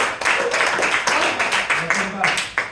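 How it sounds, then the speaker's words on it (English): A stand-up comedy audience breaks into applause, a dense wash of many hands clapping close by, with voices cheering over it. "You're eating up my time with all this clapping."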